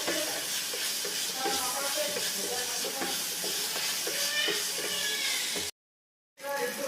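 Tamarind water cooking off in a pan, a steady hiss and sizzle with soft stirring scrapes that runs for several seconds before cutting out briefly and returning.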